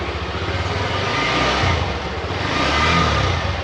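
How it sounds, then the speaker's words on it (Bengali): A Hero Xtreme 125R motorcycle's exhaust runs close by with a steady, dense engine rumble that swells slightly as it revs, with no voices over it. "এবার তোমাদের একটু বাইকের এক্সজস্ট নোটটা শোনাই"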